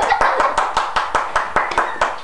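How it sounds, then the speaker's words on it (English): Hands clapping in a steady rhythm, about a dozen crisp, close claps evenly spaced, with no voices over them. "It's a clap."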